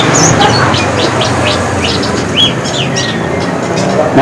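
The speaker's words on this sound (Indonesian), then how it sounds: "Itu cucak jungko yang trotol." A spotted bulbul (cucak jungko) calls among other birds at a bird market, bright repeated chirps and whistles over steady background noise and distant traffic.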